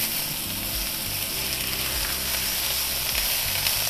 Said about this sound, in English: I'm going to sear for about between a minute